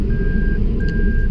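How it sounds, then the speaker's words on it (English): Reverse gear warning beep from a 1999–2005 Toyota Celica 1.8 VTi: two steady, high-pitched electronic tones, each about half a second long with a short gap between them, sounding over a low engine rumble inside the car. "this noise appear to inform you that you have switched to rear gear"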